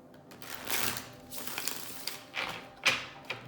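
Soft riffling bursts of tarot cards being shuffled, several quick flutters and taps in a quiet room, close and fairly faint.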